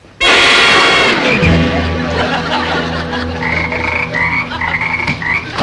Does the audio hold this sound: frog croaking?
yes